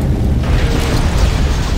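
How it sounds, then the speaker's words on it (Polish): An object blowing up in the Dead Space 2 game, a loud sustained rumbling blast with dense low-end boom that swells and fills the whole clip without talk. "Nie wiedziałem, że to wybuchnie."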